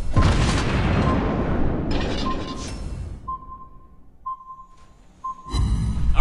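Warship guns fire in World of Warships, a loud booming salvo rolling into a long rumble, followed by quieter game tones, beeps, and another heavy burst of gunfire at the end.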